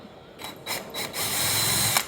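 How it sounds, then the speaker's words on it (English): Power drill backing bolts out of a small two-stroke engine during teardown, several short whirring bursts followed by a longer steady run, close and fairly loud. "I bet I can get it done with a drill on these two, at least."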